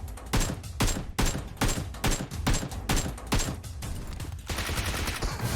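Rapid bursts of gunfire in the battle royale game PUBG Mobile, a series of loud, closely spaced shot volleys separated by brief gaps, ending in a denser, sustained spray of fire.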